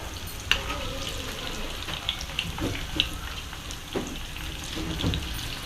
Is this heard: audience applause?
no